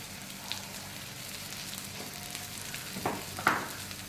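Jaggery, raw mango and turmeric powder sautéing together in a pan give a soft, steady sizzle, with a few sharper stirring clicks near the end.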